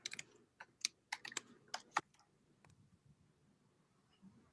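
Someone types a password on a computer keyboard in a quick burst of sharp key clicks over about two seconds, followed by a few sparse taps and quiet room tone.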